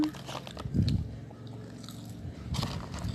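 A five-month-old baby chewing and gumming food up close, wet crunchy bites and smacking in short bursts, with an adult voice speaking softly around it.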